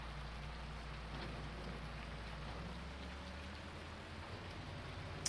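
Rainfall in the farming video game Farming Simulator 19 makes a steady, quiet patter of drops and hiss that holds even and unbroken throughout, with no talking.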